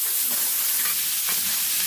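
Duck pieces stir-frying in an oiled wok with red-oil chili bean paste give a steady loud sizzle and hiss, with faint stirring scrapes and no talk.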